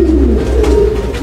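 A female pacek pigeon coos once in a low, soft, drawn-out note, close and clear against a steady low background hum.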